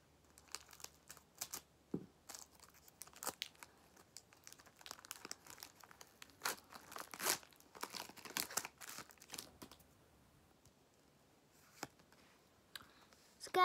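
Intermittent crinkling and crackling of a thin plastic Pokémon trading card pack being opened, with scattered clicks and brief tearing sounds in irregular bursts and pauses, close and fairly quiet.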